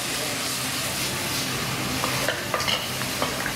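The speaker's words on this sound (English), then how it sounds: "Fry in it." Food frying in a pan at a Thai cooking class in Bangkok, a steady broadband sizzle with stirring throughout and a few brief clatters near the end.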